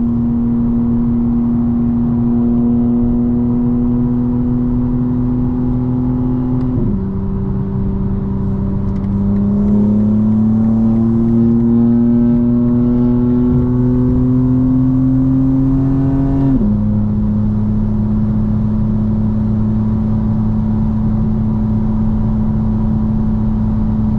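Engine of a 2025 BMW M4 Competition xDrive under way, a steady loud drone rising in pitch through two long gear pulls, each ending in a sudden drop at a shift, with no talking.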